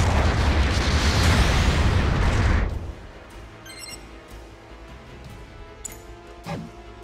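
An enemy mobile suit blows up in the Gundam Battle Operation 2 video game with a loud, sustained roaring explosion that cuts off sharply, followed by quieter game effects and faint clicks.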